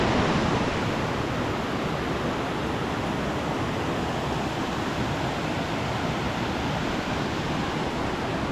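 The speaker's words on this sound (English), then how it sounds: "we've got a lovely view of these waterfalls and streams just behind me" Waterfalls and streams on the Mackenzie Falls and Fish Falls walk in the Grampians give a constant, broad rushing roar, steady and unbroken from a short distance, with no voices.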